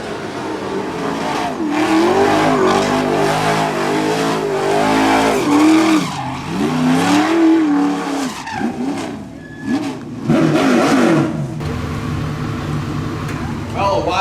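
Late model race cars roar to the checkered flag on the final lap, with engines surging and tires squealing through the turns. A race announcer talks loudly over the cars throughout.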